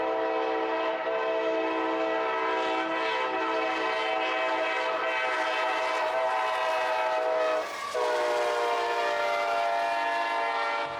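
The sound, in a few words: Conrail freight train with a boxcar up front passing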